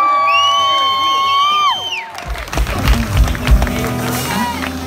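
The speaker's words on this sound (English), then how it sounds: "let's give him a warm round of applause" A concert crowd at the Moody Theater bursts into applause, whoops and cheering after a sustained guitar phrase fades, the noisy ovation rising and continuing to the end.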